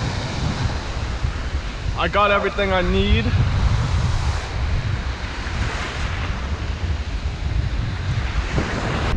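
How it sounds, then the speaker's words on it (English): Strong wind roars over a microphone at a warm, breezy fishing shore, with a steady broad rush of surf and gusts throughout; someone speaks briefly near the start. "And it is windy."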